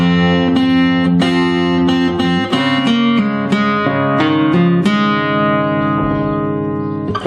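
Fingerstyle guitar playing the opening of a song verse from Frozen, a steady run of plucked notes over sustained bass tones, close and loud, with notes ringing into each other and no talk.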